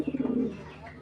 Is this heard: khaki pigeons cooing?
yes